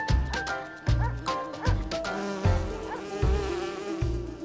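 Loud, close buzzing of bees droning continuously, with rhythmic low thumps of music or other sounds pulsing underneath.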